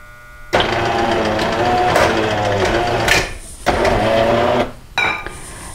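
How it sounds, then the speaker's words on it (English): A Jura Impressa F50 Classic coffee machine runs its self-rinse cycle: loud, close mechanical whirring and pumping that cuts out briefly and restarts in a few bursts, with no talking. "So the machine is self-rinsing right now."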